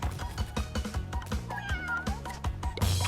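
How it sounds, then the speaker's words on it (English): Purah the cat in Crash Bandicoot Warped gives a clear, close meow amid busy game music and sound effects, with no talk over it. "Hey, Purah still meows."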